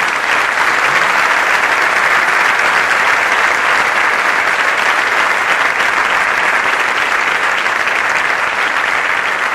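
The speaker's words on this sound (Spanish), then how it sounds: "Yo les quiero pedir un aplauso a todos ellos que hoy nos acompañaron." A crowd gathered at a march remembering Santiago Maldonado claps in loud, sustained applause, dense and even throughout with no break.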